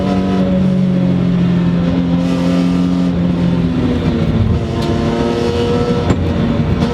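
A BMW E46 M3 engine revs hard nearby with a loud, steady mechanical drone whose pitch climbs, then eases slightly midway, suggesting a gear change before it pulls on.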